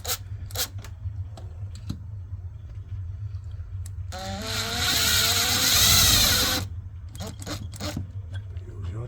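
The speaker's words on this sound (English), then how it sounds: "Use your drill." A power drill whirs for a couple of seconds, its motor pitch rising and falling, between scattered taps and clicks.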